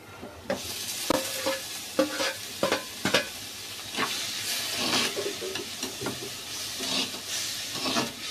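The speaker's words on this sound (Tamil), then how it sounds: "வெங்காயம் நல்லா வதங்கிடுச்சு பாருங்க தக்காளி போட்டுக்கோ" Onions and tomatoes sautéing in a pan as the base for a fish curry, with a steady sizzle broken by repeated scrapes and clacks from a stirring spoon. The sound is close, with no voices.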